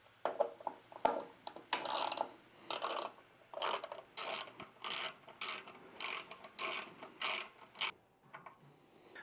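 An Allen key ratchets the top bolt on the tank console of a 2024-or-later Harley Touring, giving repeated short clicking and scraping strokes, close and fairly quiet, with no voices.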